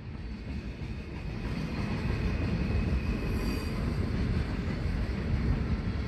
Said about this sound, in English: Look at that train, still going.